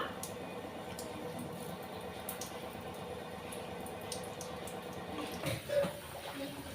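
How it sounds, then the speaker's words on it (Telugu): Water poured into a cooking pot for rice during milmaker (soya chunk) biryani preparation, a steady splashing and trickling flow running throughout, nearby and moderately loud, swelling briefly near the end. "నాలుగు గ్లాసులతో వాటర్ పోసేసుకోవాలండి"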